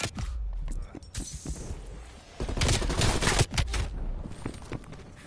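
Gunfire in Call of Duty Cold War on PS5: dense bursts of automatic fire and explosive cracks, loud and close, with a heavy sustained volley in the middle and scattered shots around it, no voice over it.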